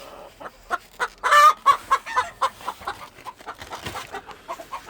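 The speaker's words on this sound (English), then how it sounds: "That's it for the birds." Hens clucking steadily in a backyard chicken coop, a dense run of short rhythmic clucks and squawks at close range, briefly louder in a burst near the start, with no talking.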